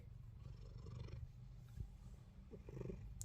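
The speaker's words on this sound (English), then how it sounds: "I don't know if you can hear him purring, but he's purring." Soft, low rumbling purr close by, continuous and faint, with a couple of small bumps and rustles.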